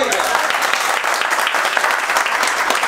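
Clapping from a class audience in a training session, a steady dense patter of many hands filling the space at close range, with faint voices mixed in.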